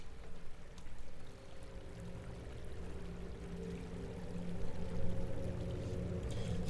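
Water flows steadily in the video game Liminal Gallery, a continuous low, rushing pour with a slight swell toward the end and no voices over it.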